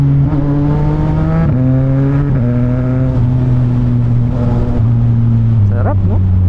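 A CF Moto 675NK motorcycle engine revs loud and close while riding, a steady growling drone that dips and climbs through several gear changes, with a sharp rising rev near the end.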